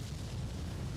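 A torpedo blasts against a merchant ship in the naval strategy game Ultimate Admiral: Dreadnoughts, heard as a short, dense, rumbling boom that fills the moment without a break.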